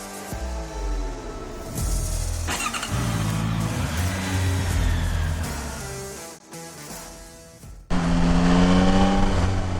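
A 2022 Yamaha Tracer 9 GT motorcycle engine revs up and down repeatedly, loud and close, with rising and falling pitch sweeps and a brief dip before a final strong rev.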